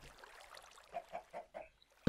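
Chickens in the video game Minecraft cluck in a short run of soft, evenly spaced clucks, fairly quiet and close, ending with a sudden sharp knock.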